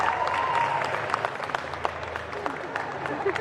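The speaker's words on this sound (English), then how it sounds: "please, yeah, just keep applauding" Audience applause at a Charmed cast Q&A with Brian Krause, Rose McGowan, Holly Combs and Drew Fuller, a dense steady roar of many hands clapping with crowd noise and voices mixed in.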